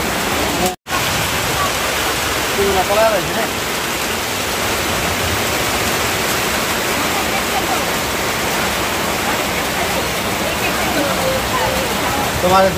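Heavy rain pours down in a dense, loud, unbroken roar, with a momentary dropout near the start and no clear voices.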